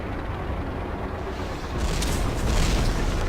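Tank main gun firing and explosions in the online shooter Red Crucible Firestorm: a steady low engine rumble swells into a heavier booming blast partway through, loud and close, with no talking.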